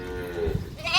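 Sheep bleat in a village, one short bleat close by and fairly quiet over a low background hum.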